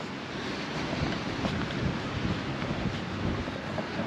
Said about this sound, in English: And it's windy and raining.